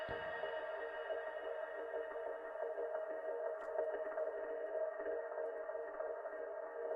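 A sustained synth pad drones steadily, its tone slowly shifting and shimmering as a filter sweeps through it, with no pauses.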